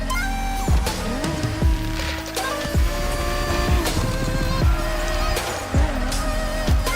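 A muscle car in a racing video game drifts through corners, its engine note rising and falling while repeated tire squeals sweep in over the revving, loud and close.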